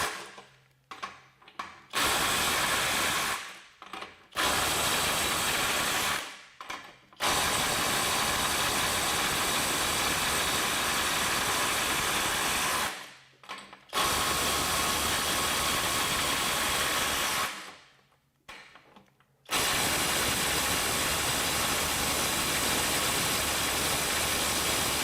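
A FLEX 24V Quick Eject impact driver (FX1371) runs in reverse, backing off large fasteners in long, loud, continuous hammering bursts separated by short pauses.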